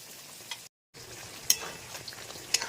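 Partly cooked chicken sautés lightly in a pan with a little water, a soft, close sizzle broken by a brief dropout and a few sharp spoon clinks against the pan.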